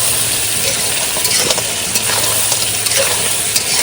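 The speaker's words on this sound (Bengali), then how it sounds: "হলুদ গুঁড়ো, জিরার গুঁড়ো, এবার এটাকে সুন্দর করে কষে নেব।" Ground spices with salt, turmeric and cumin being sautéed in a hot pan for a crab curry: a steady close sizzle with faint stirring scrapes throughout, no talking.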